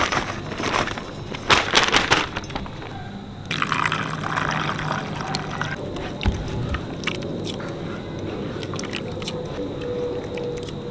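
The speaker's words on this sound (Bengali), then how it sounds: "নারকেলটা পাত্রে ঢেলে নিচ্ছি দুধটা বার করে নেব" Grated coconut is poured into a vessel with water to extract coconut milk, giving close wet squishing and sloshing with a few soft thuds, then a quieter liquid rustle.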